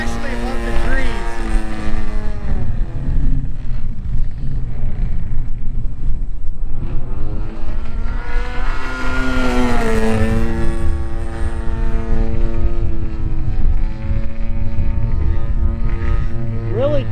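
A 50cc-powered Extra 330LX aerobatic model airplane from Seagull Models flies overhead, its engine droning loudly and continuously, pitch rising and falling as it climbs vertically and manoeuvres, with wind noise throughout.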